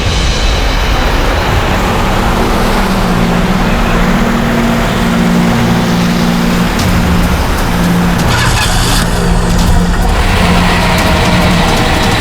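A car engine with cloth stuffed into its silencer roars loud and close, a rough continuous rumble with strained, squealing tones that rise and fall throughout.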